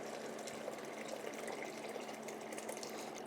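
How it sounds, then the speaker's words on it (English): Water poured from a container into a soup pot of Afghan chicken ghorma being turned into shorwa, a steady, close, continuous splashing gush with no talk. "I'm gonna add the water."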